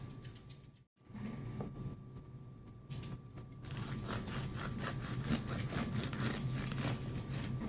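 A bread knife saws through a crusty loaf of Italian bread baked in a bread machine. Quiet scraping gives way to a steady, louder rasping of the blade cutting through the crust, with no talk.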